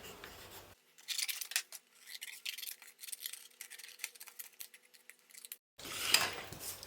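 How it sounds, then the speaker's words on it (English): Scissors snipping through thick cardboard to cut out a pin shape, a close run of crisp irregular crunching cuts and rasps, with short quiet gaps and no talking. "I'm going to be cutting it out of cardboard"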